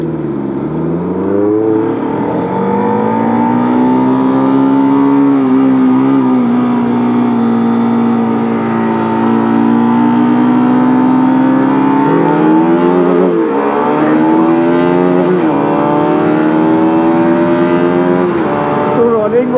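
A tuned Peugeot 207 drag car with aftermarket engine parts accelerates hard through a rolling test, engine note climbing steadily to high revs, loud and continuous, with a brief gear change partway through.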